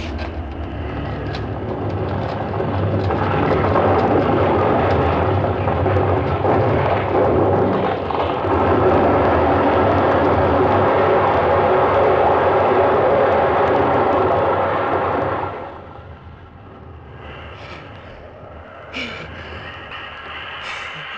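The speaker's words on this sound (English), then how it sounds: "I heard a massive rumble. I felt the earth shaking itself to pieces. Avalanche!" A massive avalanche rumble staged as a sound effect in a 1951 radio drama, a loud, dense, roaring wall of noise that builds and churns for about fifteen seconds before dropping away to a quieter wind-like bed with scattered faint noises.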